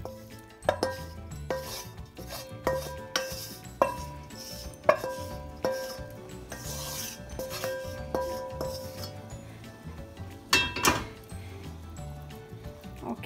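Spinach masala scraped and transferred from a pan into a pot of dal palak, with a steady run of spoon and metal scrapes, rubbing and several sharp clinks against the cookware, close and moderately loud.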